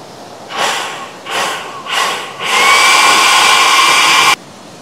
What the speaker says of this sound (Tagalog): Tapos dala ko tong blower.